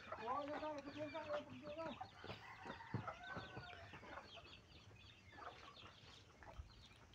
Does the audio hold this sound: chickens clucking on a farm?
yes